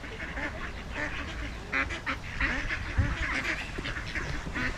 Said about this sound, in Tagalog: Dami guys. Pato.